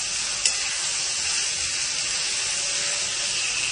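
Vegetables and tomato paste sizzle and fry steadily in a hot pan, a continuous close hiss throughout with one brief clink of a utensil near the start.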